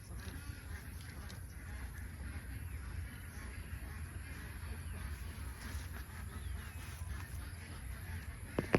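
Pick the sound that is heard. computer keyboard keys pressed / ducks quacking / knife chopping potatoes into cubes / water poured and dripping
ducks quacking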